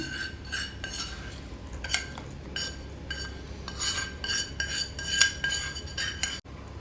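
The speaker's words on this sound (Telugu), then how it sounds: "ఇందులో పోపు వేసుకుందాము" A metal utensil clinks and scrapes in a pan as tempering is added and stirred, with repeated bright taps and rattles over a low background hum, close and moderately loud.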